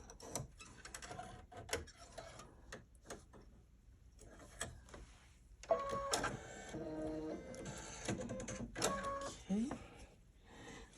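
A sewing machine runs in bursts, stitching around vegan leather laid over a quilt block, with a steady mechanical rattle rising mid-clip and scattered clicks in the gaps.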